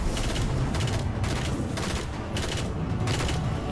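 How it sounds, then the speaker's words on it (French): A collector blowing up in the video game Destiny, a loud, dense barrage of repeated explosive bursts roughly every half second, with no voices over it. "c'est un collecteur qui a explosé"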